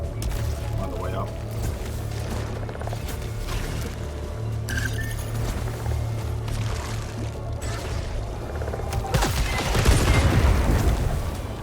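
Enemy gunfire in the video game Returnal, scattered shots and impacts over a steady low hum, swelling into a louder burst of blasts near the end, with a voice talking over it.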